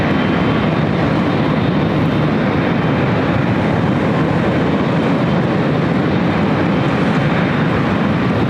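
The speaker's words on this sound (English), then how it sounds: "The flight heading back to Seoul looking like it's heading up for a north side takeoff." An Asiana Airbus A350-900 takes off at LAX, a loud, unbroken jet roar of broad, rushing noise that stays steady from start to finish.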